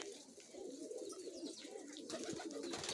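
German miniature Modena pigeons coo softly in low rolling phrases, with occasional chirps and wing or movement noises close by, no one speaking.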